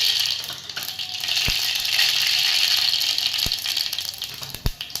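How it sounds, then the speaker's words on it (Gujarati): Mustard seeds, cumin and asafoetida hitting hot oil in a home kitchen pan for a Gujarati vaghar on a green bean and potato curry, giving a steady close crackling sizzle with a few sharp pops. "ચાલો તેલ આવી ગયું એટલે આપણે વઘાર મારી દઈએ."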